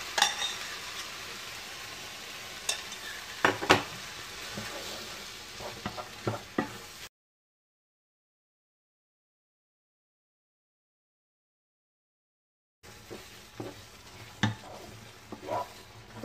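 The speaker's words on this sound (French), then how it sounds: "Je vais venir l'ajouter sur ma viande hachée." Thickened sauce is stirred into minced meat sizzling in a hot pan, giving a steady close frying hiss with scraping utensil strokes, then a gap of silence before the sizzle and stirring return.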